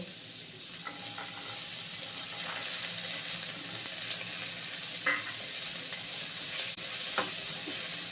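Onions and carrots frying in a pan, a continuous hissing sizzle with soft stirring scrapes and a few light clinks of the spatula, heard close and steady without talk.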